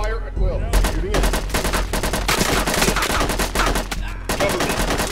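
Rapid gunfire from a VR shooting game, dense automatic bursts firing almost without pause, loud and close throughout with brief gaps, under intermittent game voices.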